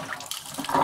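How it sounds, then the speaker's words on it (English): Dirty wash water from hand-cleaning a cashmere sweater drains out of a sink, a brief close gurgle and swirl that rises toward the end. "Our dirty water is going out."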